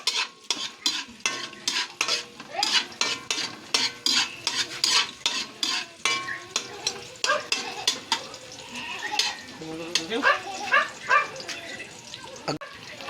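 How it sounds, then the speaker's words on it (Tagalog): Chili peppers being sautéed in a pan, with a utensil stirring and scraping repeatedly over steady frying sizzle. The scrapes come in a quick rhythm and sound loud and close, with a little background voice. "Gisa mo natin itong sili guys para medyo manghang."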